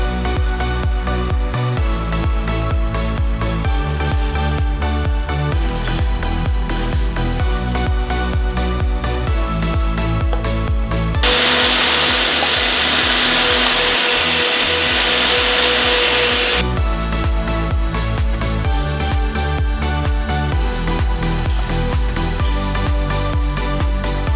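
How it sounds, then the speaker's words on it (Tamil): A dry mixer jar grinds roasted sundakkai podi ingredients, including turkey berries, in a loud, steady whir lasting about six seconds, with music playing before and after. "ட்ரையான மிக்சி ஜாரில் போட்டு அரைச்சி எடுத்துக்கலாம்"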